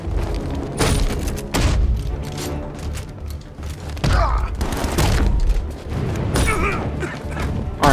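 Enemy gunfire in the Batman Arkham Knight video game: loud bursts of shots and booming impacts with crashes, a dense, busy game mix running steadily throughout.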